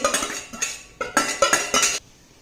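A spoon stirring a besan, ghee and milk mixture in a metal kadhai over a low flame, producing a run of rhythmic clinks and scrapes in about six close, separate bursts before it stops.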